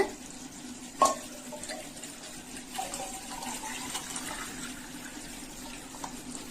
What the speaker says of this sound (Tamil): இப்ப தண்ணி அளந்து ஊத்திக்கலாங்க.